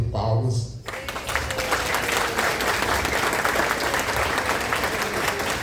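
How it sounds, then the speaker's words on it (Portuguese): An audience at a book biennial launch breakfast in Alagoas bursts into sustained applause after a short spoken lead-in, the clapping dense and even to the end. "Peço uma salva de palmas."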